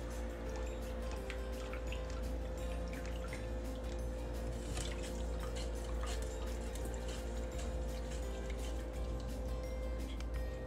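Soapy water for cleaning silver drips and trickles with soft, irregular splashes over a steady low hum as it is stirred in a container.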